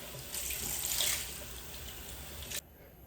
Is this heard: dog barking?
no